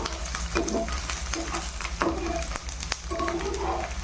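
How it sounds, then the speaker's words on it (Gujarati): Whole garlic cloves fry in a pan for Kathiyawadi garlic chutney, a close crackling sizzle broken by repeated scraping stirs of a spoon, with no talking. "હવે આપણે આપણું આ લસણ આમાં ઉમેરી દઈએ। લસણને એકદમ પકવવાનું છે।"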